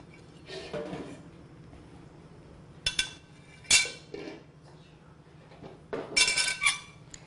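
Vegetable pulao rice being spooned from a cooking pot into a serving dish, with a few scattered metallic clinks and scrapes of a serving spoon against the pot and dish between quiet pauses.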